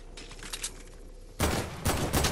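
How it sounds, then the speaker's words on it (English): Gunfire in the video game Fortnite, light scattered shots early on, then two loud bursts of rapid close fire, each lasting roughly half a second, with no talking. "Stop shooting at me then!"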